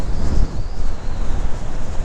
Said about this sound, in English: it's super, super windy